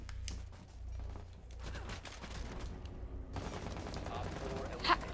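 F2 rifle fire in Rainbow Six Siege, rapid bursts of game gunshots with clustered cracks early on and a denser spell of firing later, fairly faint overall, while a player talks over it.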